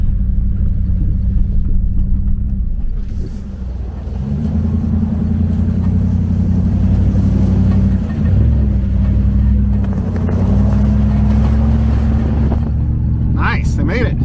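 Small Subaru cars climb a dirt off-road hill, their engines giving a steady, loud rumbling drone that dips briefly a couple of times, with a voice talking over the motor noise.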